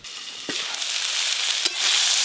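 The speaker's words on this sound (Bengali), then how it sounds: "আলু উচ্ছে ভাজতে একটু টাইম লাগে" Potatoes and bitter gourd fry in a pan for a rustic village-style meal, a steady bright sizzle that swells louder toward the end, broken by a couple of sharp stirring knocks.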